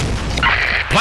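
A grenade explodes in the Shortfuse video game, a loud, heavy boom that rises sharply and stays dense and close through a short, full-bodied burst.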